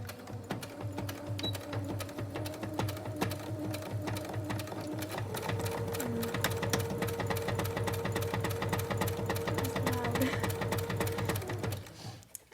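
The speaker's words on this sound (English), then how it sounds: "We're going to do 1/4 inch, so leave it at the edge of your presser foot. And you're going to sew." A sewing machine stitches fabric at a quarter-inch seam along the presser foot, whirring steadily and rhythmically for about twelve seconds, speeding up slightly midway before stopping, with no talking.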